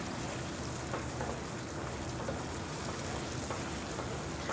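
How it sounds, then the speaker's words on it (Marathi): Dense, continuous bubbling of a thick masala gravy at a rolling boil in a pan, steady and even throughout with no voices. "इथे आपल्या मसाल्याच्या ग्रेव्हीला चांगली उकळी पण आलेली आहे"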